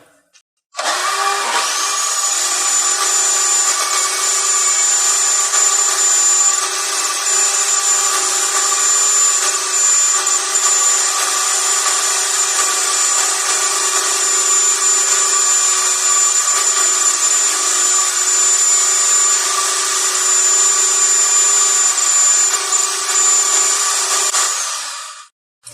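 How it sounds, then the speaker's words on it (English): A power saw cleans up a rabbet joint in wood for a rustic shelf, running loud and steady for about twenty-five seconds with a high whine and no talking. "start your saw and run this back and forth this way"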